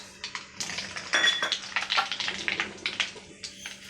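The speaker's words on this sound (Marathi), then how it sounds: "तेल तापले सगळ्यात पहिले मोहरी टाकूया" Mustard seeds dropped into hot oil for a tomato pickle tempering, crackling and popping in quick irregular bursts with clinks of a pan and spoon, close and fairly loud throughout.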